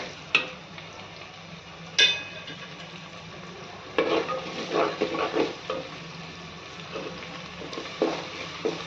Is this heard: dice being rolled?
no